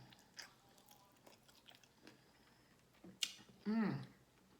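Boiled shrimp from a seafood boil being eaten up close, soft bites and wet chewing with a loud smacking squelch near the end, quiet between the mouth sounds.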